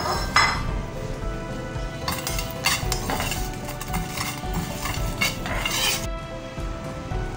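Tomato, onion, garlic, ginger and turmeric masala for smoky yogurt chicken karahi being roasted in a pan, with a steady clatter of a utensil scraping and clinking against the metal and a soft sizzle underneath throughout.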